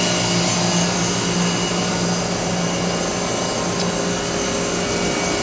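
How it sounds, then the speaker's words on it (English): An Edwards GSVP 30 scroll vacuum pump for load lock pumping on an Oxford Plasmalab 100 ICP etch system runs with a steady, continuous broadband hum and whir, loud and close, with no talk. "for load lock pumping, you have an Edwards GSVP 30 scroll pump"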